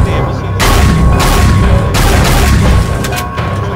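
Shotgun fire in the first-person shooter Dead Effect 2: a string of loud, heavy booming blasts, several in quick succession with short gaps, close and dominant over background game ambience.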